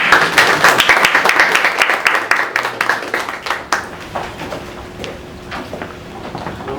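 Audience applause at a community business networking meeting, with loud, dense clapping at the start that thins out into scattered claps and fades away toward the end.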